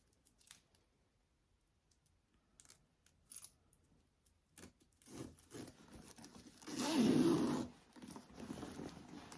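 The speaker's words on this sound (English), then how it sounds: "I'm gonna put my zipper pull on here, and then I will put a zipper end cap onto my zipper" A metal zipper pull being fitted onto a bag zipper, with scattered small clicks, scrapes and rustles of hardware and fabric, close and fairly quiet, building to a longer louder scraping handling noise near the end.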